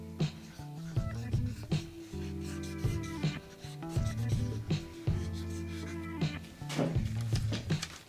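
Pencil scratching quickly across paper in a fast gesture sketch, short rubbing strokes in bursts with brief pauses, close and fairly quiet, with faint background music underneath.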